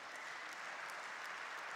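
Spectators in the hall at a table tennis tournament, the Polish Open quarterfinal, sound off in a faint, distant wash of crowd noise and scattered clapping, fairly steady and quiet, with no voice in front.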